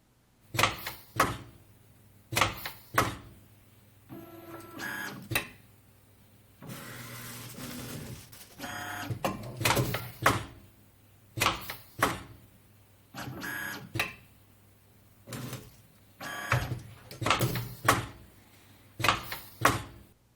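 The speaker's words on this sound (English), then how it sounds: "the machine's testing is complete after 120 strokes, and the total number of paper is recorded as total cardstock cut" A knife-edge testing machine cuts through cardstock with repeated stroke after stroke, a regular mechanical clunk and rasp cycling about every second or so, with a longer whirring stretch midway.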